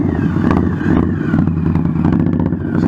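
A motorcycle leans hard through a tight 30-foot circle, its mid-pitched engine droning steadily and loudly close by, with light mechanical clatter throughout.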